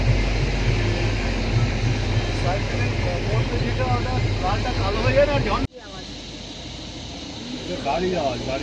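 A car climbs a mountain road between Uttarkashi and Gangotri in the Himalayas. A steady, close engine and road rumble with wind noise cuts out abruptly midway, then returns more quietly.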